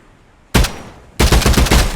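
Loud, close bursts of rapid gunfire in a VR shooter on a Quest headset as dummies are shot, an opening burst then a second sustained rattling volley.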